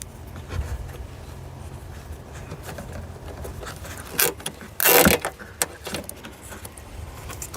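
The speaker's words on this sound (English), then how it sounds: "And you'll hear it kind of like ratchet into place." Nylon automotive cable tie clips ratchet into place on a car, with a short click and then a louder, close zipping rattle, over faint background handling.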